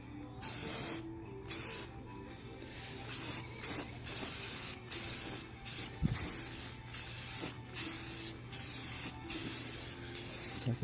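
Spray paint hisses onto front-end parts of a 2009 Chevy Silverado being blacked out, in loud, close, repeated bursts of about a second each separated by short pauses, with no talking.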